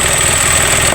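A Mitsubishi Mirage engine idles steadily after repair, a close, even mechanical hum with constant loudness and no voices.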